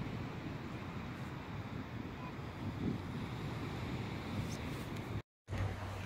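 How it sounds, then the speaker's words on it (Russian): Sea waves wash onto the beach at Pitsunda in Abkhazia, a continuous broadband roar mixed with strong wind buffeting the microphone, with a brief dropout near the end. "Пляж, волны."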